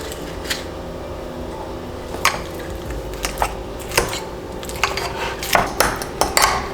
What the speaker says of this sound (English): I'm just gonna mash mine because I'm lazy.